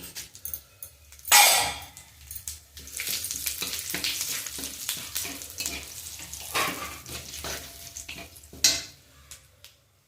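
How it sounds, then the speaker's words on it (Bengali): Bay leaf, cumin and dried chillies fry in hot oil for a dal tempering, giving a loud, steady sizzle with bursts of crackle and occasional stirring scrapes, close by and with no talk. "তেজপাতা আর এখানে নিয়ে নিয়েছি জিরে শুকনো লঙ্কা দিয়ে দেবো"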